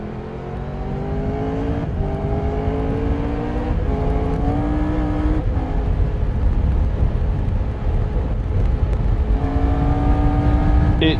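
Engine of a 2023 Triumph Tiger 1200 GT Explorer motorcycle on the road, a loud continuous drone that rises in pitch through repeated gear pulls, with heavy wind rumble beneath and no talking.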